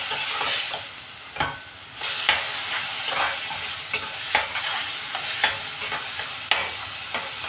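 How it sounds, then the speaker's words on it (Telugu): Tomato puree fries in a pan for a vanjaram fish stew, a loud hissing sizzle broken by repeated stirring strokes and scrapes, close by with no talking. "లైట్ బ్రౌన్ కలర్లోకి వచ్చిన తర్వాత ఇట్లా టమాటా ప్యూరీ వేసేసుకోవాలి."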